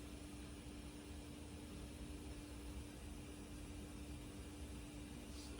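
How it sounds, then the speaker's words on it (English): Steady white noise test signal played through a Nakamichi DR-10 cassette deck on type 2 tape, faint and unbroken hiss with a low constant hum beneath it. "White noise."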